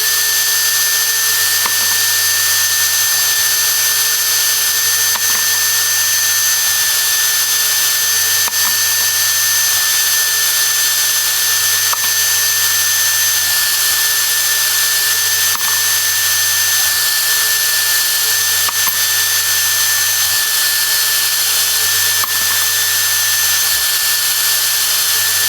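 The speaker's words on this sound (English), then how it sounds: "when I push the piece of brass in, I will turn it a little bit just in case there's any amount of run out in your trimmer" A powered brass case trimmer cuts rifle brass cases, a steady high motor whine running continuously with faint periodic ticks as each case is pushed in and trimmed.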